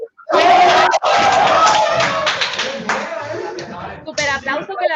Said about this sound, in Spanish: Súper aplauso, que lo habéis hecho genial